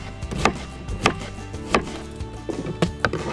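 A knife chopping an onion on a board, a handful of sharp uneven thwacks spaced about half a second apart, close and clear with no talking.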